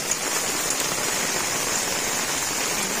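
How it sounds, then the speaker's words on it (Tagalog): Heavy storm rain pours down outdoors by a chicken coop in a steady, even hiss of drops on surfaces, continuous and unbroken with no voices. "Lakas ng ulan dito, may bagyo."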